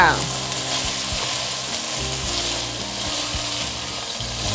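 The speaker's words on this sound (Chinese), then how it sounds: "快速翻炒" Baby corn stir-fries in a wok with vegetarian oyster sauce and soy sauce, a loud close sizzle with rhythmic scraping tosses of the spatula, no talking.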